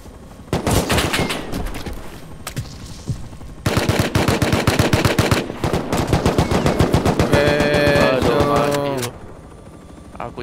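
Rapid automatic gunfire in the survival video game Rust, dense loud bursts in two long volleys with a brief pause between, under faint voices.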